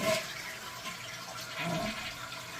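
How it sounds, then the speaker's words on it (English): A toilet flushing after a water fill valve replacement: a steady, close rush of water that swells and churns through the whole stretch, fairly loud and alone. "So now is when we flush it."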